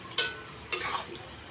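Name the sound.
masala added to fried onions in pan, desi chicken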